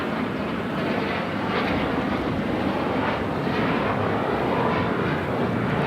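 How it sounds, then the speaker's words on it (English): A Gulfstream G650ER business jet taking off at Los Angeles International Airport, a steady loud broadband engine roar with wind noise, sustained throughout without talk. "That is a Gulfstream G650ER"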